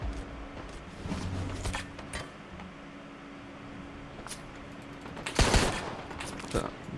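An RPG in a video game strikes an armoured vehicle loaded with artillery shells, setting off a loud burst around the middle amid scattered gunfire-like cracks and lighter impacts across the stretch.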